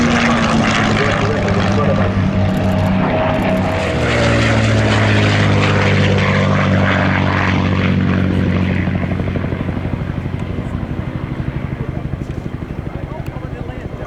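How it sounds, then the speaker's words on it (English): Supermarine Spitfire LF Mk IXc with a Rolls-Royce Merlin engine flying a display at an air show, a loud, continuous propeller-engine drone whose pitch sweeps downward as the aircraft passes, then fading slightly toward the end. "listen to the sounds of this Rolls-Royce Merlin engine"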